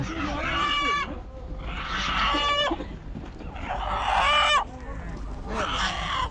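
Loud, close calls from a very large rooster at the Osh bazaar in Kyrgyzstan, in several harsh, drawn-out bursts with short gaps between them, with a steady low rumble underneath.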